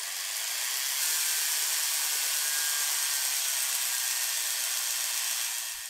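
Axial flux magnetic gearbox spinning during an efficiency test, a steady high-pitched whirring hiss held evenly for several seconds, faint and continuous with no talk.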